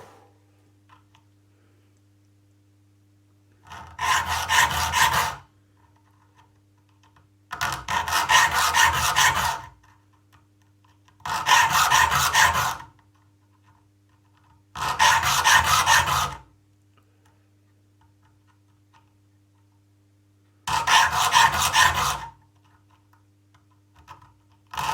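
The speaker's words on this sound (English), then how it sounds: "Now what I'm doing with a file is, obviously by the book you should be lifting the file and then pushing it forwards again" A file sharpens the teeth of a crosscut handsaw in five separate bursts of rough, rasping strokes, each lasting a couple of seconds with quiet gaps and a low hum between, close and loud.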